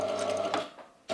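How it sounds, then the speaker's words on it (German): Sewing machine locking a seam on a fabric star by stitching briefly backwards, a steady close whir that pauses for a moment and then starts up again. "Und da verriegle ich die Naht auch wieder, nähe einmal kurz zurück"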